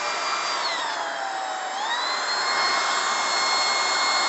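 A VOVGUU cordless stick vacuum cleaner running in auto mode whines steadily and loudly, its pitch dipping and then rising again as the suction adjusts, with no talking.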